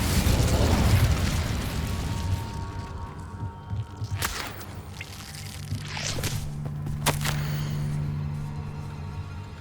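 A fire spell bursts in Hogwarts Legacy with a loud roaring whoosh up front, followed by a few sharp cracks and crackling flame as the burst fades into a steady low rumble.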